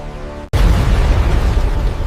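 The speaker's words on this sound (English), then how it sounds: "a sudden explosion shatters the peace and shakes the very ground" A sudden deep boom of an explosion hits after a short quiet moment and rolls on as a loud, dense rumble that seems to shake the ground.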